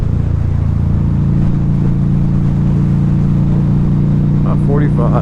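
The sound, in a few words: Harley-Davidson V-Rod Muscle motorcycle accelerating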